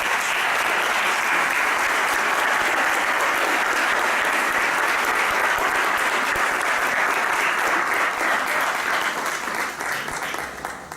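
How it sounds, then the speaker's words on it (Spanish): A panel audience applauds to welcome the speakers, loud sustained clapping from a full room that holds steady and then tapers off near the end. "Los recibimos con un afectuoso aplauso"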